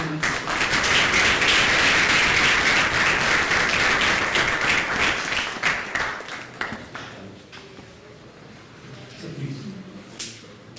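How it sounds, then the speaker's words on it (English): An audience at a financial-freedom seminar applauds with dense, loud clapping that holds for several seconds, then thins and fades as a voice begins speaking over the last scattered claps. "Please give a huge round of applause for Dr. Anil."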